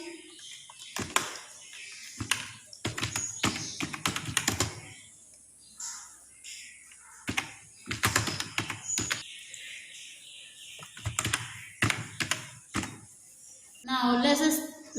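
Typing on a computer keyboard comes in irregular bursts of close, crisp key clicks with quiet gaps between them. A short voice-like sound appears near the end.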